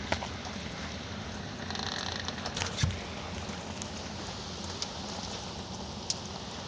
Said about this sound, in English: It's all rain.